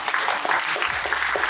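An audience at a business tech event claps for a speaker coming up, a short burst of mixed hand claps, fairly loud and close, with some scattered individual claps.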